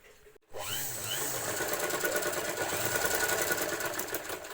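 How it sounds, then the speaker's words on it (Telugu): A sewing machine stitches piping cloth for a blouse, a steady close rattling hum running continuously for several seconds after a brief pause, with no talking. "ఇప్పుడే మనం పైపింగ్ అనేది ఈ క్లాత్ ఇలా అనేది స్టిచ్ చేసుకుందాం"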